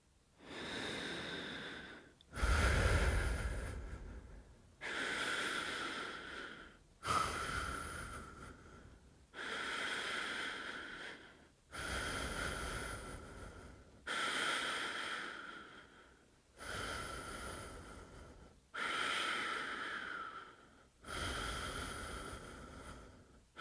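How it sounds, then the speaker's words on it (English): Slow, deep rhythmic breathing, about nine long breaths with a steady rise and fall, close and alone, each inhale and exhale audibly airy with slight nasal snorting. "the only sound will come from us breathing together"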